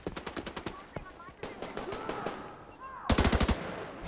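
Loud machine-gun fire from a The Division 2 shootout, steady rhythmic bursts at the start and a sharp, intense burst near the end, with faint game ambience between.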